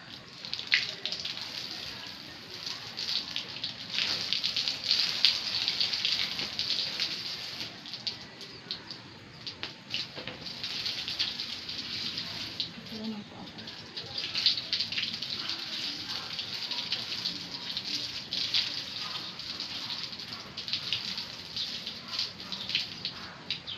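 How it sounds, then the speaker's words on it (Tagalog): Steady running and splashing water fills the clip, a continuous hissing spray with small surges, as water is sprayed onto a hard terrace floor during cleaning. "Tumatalsik kasi yung tubig."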